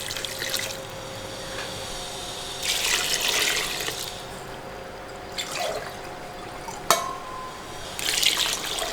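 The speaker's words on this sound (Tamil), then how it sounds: "ஸோ இப்போ அதில் தண்ணி ஊற்றிக்கலாம்." Water poured in several bursts into a pot of chest bone soup, broadband splashing pours around the first, third and ninth seconds with quieter trickles and a sharp clink between, close and moderately loud with no talking.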